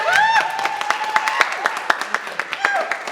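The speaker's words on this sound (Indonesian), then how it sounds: "Silahkan kita beri tepuk tangan dulu untuk kandidat kita." A small audience claps for a candidate at a Q&A event in scattered, uneven beats while a voice talks over the applause.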